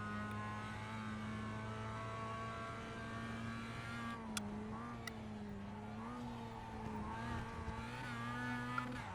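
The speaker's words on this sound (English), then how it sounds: "For some reason my car doesn't want to shift down to third gear." A Mazda MX-5 engine drones loudly and steadily from inside the car on a fast lap of the Oulton Park Fosters circuit, its pitch rising and dipping slightly with throttle, with a couple of faint clicks.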